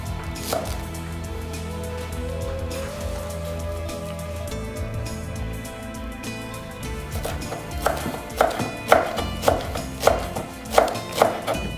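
Fresh parsley coarsely chopped with a knife on a board, rising in the second half to a run of crisp, evenly spaced chops, close and fairly loud over a steady musical background.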